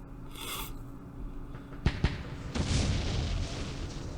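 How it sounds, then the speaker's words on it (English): Mortar rounds landing in the war game Campaign Series Middle East, set at the Battle of Jerusalem: two sharp, close booms in quick succession, followed by a long rumbling, hissing wash of settling debris. "Oh, there's mortars here somewhere."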